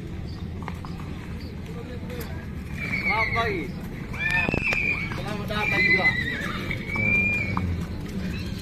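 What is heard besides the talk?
herd of horses arriving at the Tolo horse market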